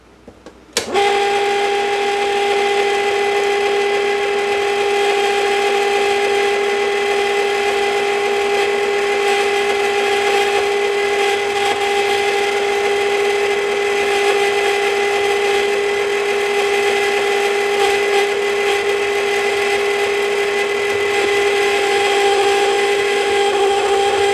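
An electric mixer starts abruptly and then whirs steadily at a constant pitch for over twenty seconds, loud and close, while it stirs chocolate chips into batter; no one talks.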